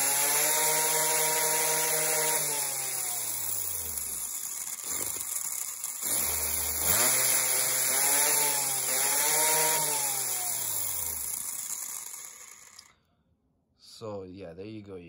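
A Losi MiniB and MiniT 2.0 RC car with a brushless 7800kv motor whines sharply, its pitch swooping up and down through repeated revs. The whine cuts out briefly, then stops near the end before a short burst resumes.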